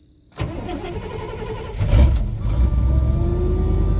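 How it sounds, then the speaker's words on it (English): The engine of a 1987 Chevy Blazer farm plow truck cranks and catches with a sudden loud roar, then settles into a rough, rumbling idle that swells briefly and stays loud and close. "last week I came out here to try it out, and it fired right up"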